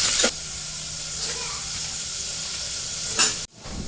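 Oil sizzling steadily as onion, tomato and green chilli fry in a pan, a continuous hiss with brief louder bursts near the start and end and a sharp cut just before the close.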